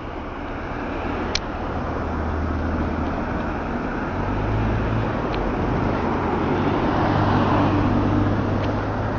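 A motorcycle with an oil leak cruises along a road, its engine producing a steady low drone beneath loud, continuous wind rush.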